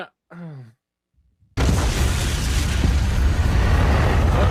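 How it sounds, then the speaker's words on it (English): A short groaning voice is followed by silence, then a sudden loud video game explosion erupts into a sustained roaring, crackling rumble that continues to the end. "Snipers cause explosions."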